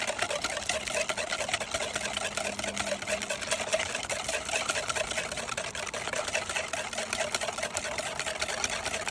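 Chocolate lava cake batter being whisked in a bowl outdoors in the woods, a steady, even scraping and rattling churn that carries on without a break, close up and fairly quiet.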